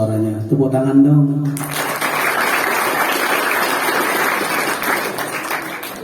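An audience in a mosque at a Maulid sermon breaks into applause after chanting voices fade out, a dense steady clapping that carries on to the end.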